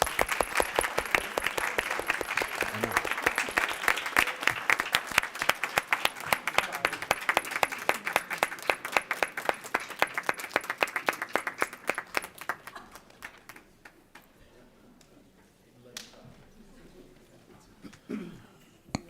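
Applause at a county commission meeting: a group claps steadily for about twelve seconds, then thins out to a few scattered claps and quiet room noise, with faint talk near the end.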